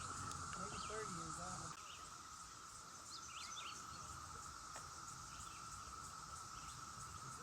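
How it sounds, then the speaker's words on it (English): Cicadas on an Eastern Kentucky mountain make a continuous high-pitched drone, with scattered bird chirps and calls layered over it. The sound is fairly quiet, steady and outdoors. "It's the cicadas."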